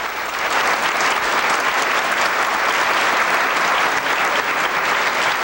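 More than 200 people at a ceremony where a fisheries minister presents a commemorative plaque clap loudly and continuously, forming a thick, even wall of applause that cuts off abruptly.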